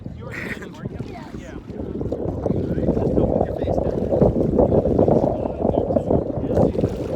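Gusty wind rushes and buffets the microphone in a steady roar while someone floats in the Dead Sea outside a resort hotel; a voice speaks briefly over it.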